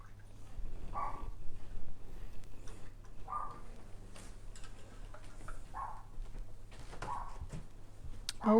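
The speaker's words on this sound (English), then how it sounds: "that sound too is the dog barking" A dog barks in another part of the house, faint and distant, in about four short barks spaced a couple of seconds apart over a steady low indoor hum.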